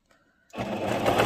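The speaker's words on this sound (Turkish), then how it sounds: "Dikiyorum." A sewing machine stitches a plush zippered bag, beginning abruptly after a near-silent start and running as a steady, dense mechanical whir up close for the rest of the moment.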